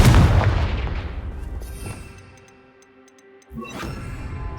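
A Confringo fire spell blasting in Hogwarts Legacy, a loud booming burst at the start that decays slowly into a ringing tail, followed by a second sharp hit near the end.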